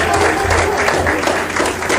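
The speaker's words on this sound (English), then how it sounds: "let's give the teacher a rousing round of applause" An audience gives a teacher a rousing round of applause at the launch of Productivity Awareness Week: dense, steady clapping from many hands, held at an even level throughout.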